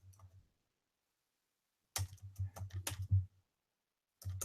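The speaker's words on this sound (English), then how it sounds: "I heard your keyboard, Glenn." Computer keyboard typing heard over a call, a brief tap, then a quick irregular run of clicky keystrokes after a pause and more at the end, close and fairly quiet.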